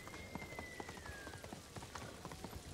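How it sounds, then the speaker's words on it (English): Heavy rain in the video game Ghost of Tsushima: a steady, dense patter and hiss that runs through the whole stretch, broken by regular soft thuds like hooves plodding underneath. "Oh, the rain has come in pretty hard."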